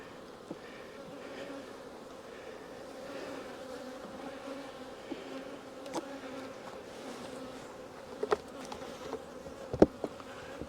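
Honeybees drone steadily around an open hive during a late-summer check, a continuous close swarm hum with a few sharp clicks and knocks near the end.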